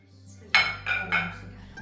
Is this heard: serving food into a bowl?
yes